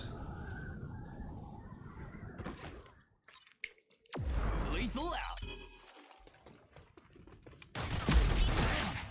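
Weapon fire in the online shooter Rogue Company, with crackling bursts, metallic clinks and impacts coming in uneven stretches while someone talks over much of the game audio.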